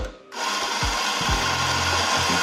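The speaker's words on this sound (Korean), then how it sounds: "커피 원두를 바꿔주신 후에 한 2번 정도는 분쇄를 해서 버려주시면 돼요" An espresso coffee grinder runs continuously, grinding beans to purge old grounds from its chamber: a loud, steady whirring drone that starts abruptly after a brief quiet moment and carries on alone, with some low knocks beneath.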